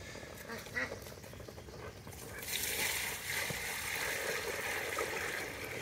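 Ducks quack nearby amid outdoor water ambience, with a person's voice occasionally in the background.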